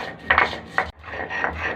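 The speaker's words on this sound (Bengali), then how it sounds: "ধনে বেটে নেব।" Coriander seeds being ground on a stone grinding slab, two or three rough rasping strokes of stone against stone at a moderate pace, close by and fairly loud, with no voices.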